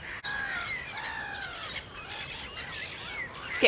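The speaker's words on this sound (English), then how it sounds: "I can hear another warbler just behind me as well." Bird song at a nature reserve at dawn, a warbler's bright chirping phrases repeating steadily over several seconds, fairly close and clear against a soft background hiss with other birds calling.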